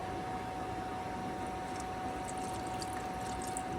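Water poured into the bottom of a homemade cardboard-box quail egg incubator, a steady close trickle and splash with a faint constant tone running underneath.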